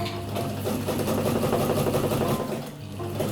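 A sewing machine runs steadily, its needle hammering in a fast continuous whir as it stitches thick fabric for a stuff sack, loud and close, with a slight slowdown near the end and no talking.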